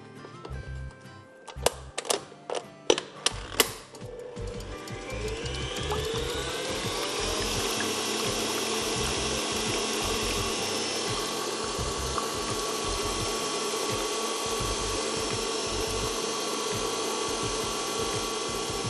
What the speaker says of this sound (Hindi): 6 अदद अंडे हैं जो इसमें चले जाएंगे, और इसको हम बहुत अच्छी तरह बीट करेंगे